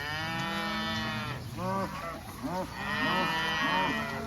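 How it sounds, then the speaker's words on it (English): Cows and calves bawling together in a mob-grazing pasture, several overlapping moos rising and falling close by, loud and continuous with no talking. "Cows are bawling. Calves are bawling."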